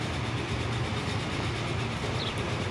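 A train running on rails in the Transport Fever video game, accelerating past about 53 miles per hour, gives a steady, continuous low rumble at even loudness throughout, with no talk over it.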